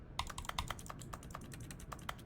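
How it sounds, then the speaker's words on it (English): Computer mouse clicks in the Stanley Parable Deluxe rattle like keyboard typing, a quick irregular run of light, crisp taps, faint and close. "Every time I click, it sounds like I'm typing on a computer."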